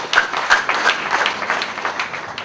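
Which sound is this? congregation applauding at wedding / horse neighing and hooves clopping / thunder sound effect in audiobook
congregation applauding at wedding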